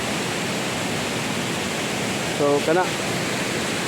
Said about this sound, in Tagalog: Daghan kay siyang mga falls nga nagiambakan sa mga tubig